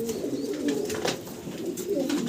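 Pet pigeons at a loft, including a Jacobin and an English Nun, coo in low rolling phrases that repeat and overlap, fairly loud and close, with no talking over them.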